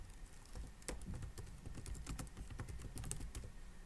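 Light, quick typing on a computer keyboard, with uneven clusters of soft key clicks and an occasional sharper tap, close and quiet in a still room with no talk.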